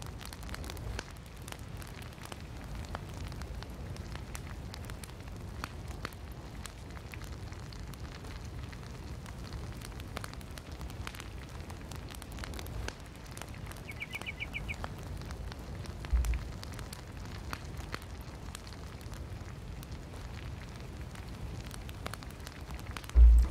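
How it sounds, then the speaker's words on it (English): Steady rain falls outdoors in a Central Florida setting within the Project Zomboid survival game, a soft continuous wash with scattered louder drops and a faint thump near the end, heard alone without voices. "It's a beautiful rainy day out here in Central Florida."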